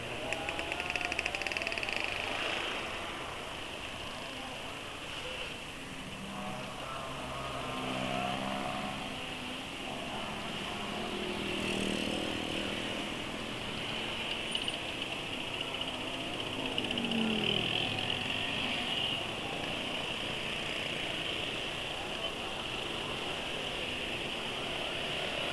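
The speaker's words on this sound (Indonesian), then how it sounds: "Suaranya mesin aduh kasar." A Yamaha NMAX scooter engine with roughly 19,000 km runs at low RPM with a rough, steady mechanical drone, moderately loud and continuous with slight swells, no talking over it.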